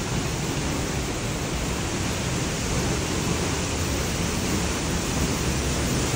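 Kaiate Falls waterfall roars nearby, water dropping from above in a loud, dense and unbroken rush of noise that stays constant throughout, with no voices over it.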